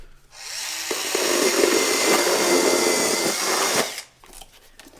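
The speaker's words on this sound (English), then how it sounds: "We use mini chainsaws." A Bosch Nano Blade mini chainsaw cuts open a cardboard box: a steady, loud, buzzing whine runs about three seconds from start-up to cut-off, then quiet rustling.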